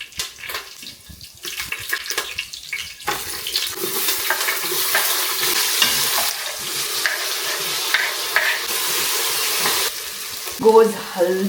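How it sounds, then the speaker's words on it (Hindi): Ghee crackles and sizzles in a hot pan as cumin and mustard seeds are tempered for South Indian cooking, a steady frying hiss with stirring scrapes that builds after a quieter start. "चढ़चढ़ाने की आवाज आ रही है"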